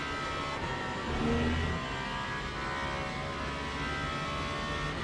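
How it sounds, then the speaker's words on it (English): A race car engine in the racing game Le Mans Ultimate hums steadily at a low, moderate level, with a brief swell in revs partway through. "Car sound is low, but okay."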